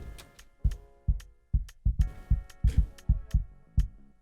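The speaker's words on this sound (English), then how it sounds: "We want to improve the sound of the kick." A deep kick drum thumps alone in a steady pattern, about a dozen punchy hits with short decays and a faint click on top.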